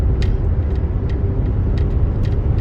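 A Ford Focus 1.5 EcoBoost sedan accelerating in fourth gear, heard from inside as a loud, steady engine drone mixed with dense road rumble, continuous throughout with no speech.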